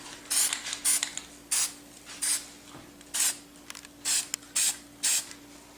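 A series of short aerosol primer spray bursts onto a Nerf gun, hissing and close, about seven quick puffs separated by brief pauses.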